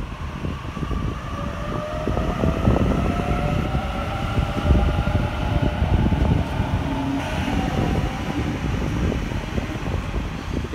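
A Sydney Trains City Circle service pulls out from a platform at Campbelltown, with a steady rumbling roll, rising wheel and motor tones and fan-like whirring. It sounds close and continuous throughout.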